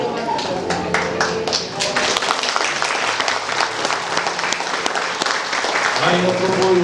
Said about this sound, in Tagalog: Ayaw ko po yung palakpak na napipilitan na.